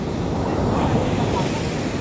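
Strong surf rolls onto a beach as a continuous broadband wash, mixed with gusty wind buffeting the microphone.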